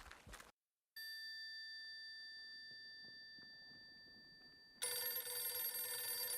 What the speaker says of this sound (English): What's your telephone ringing for?